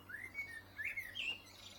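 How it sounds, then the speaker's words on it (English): Birds sing faintly in the distance, a few short whistled chirps and phrases rising and falling over a quiet outdoor background. "plenty of bird life. You can probably hear all the singing going on."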